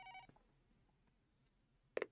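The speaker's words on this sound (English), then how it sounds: "Okay, phone call." A brief electronic phone ring in the White Album 2 visual novel game, a short tonal burst at the start and another sharp ring near the end, separated by near silence.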